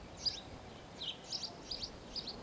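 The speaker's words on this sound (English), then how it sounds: "Calls from one bird to another" Several short, high chirping bird calls in quick succession, trading back and forth over a faint, quiet background.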